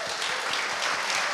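Brief burst of audience applause, many hands clapping in a dense, even wash at steady loudness.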